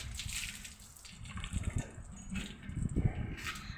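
Water splashes and gushes in uneven bursts as a buffalo is washed outdoors, moderately close, with a few faint sounds in the background.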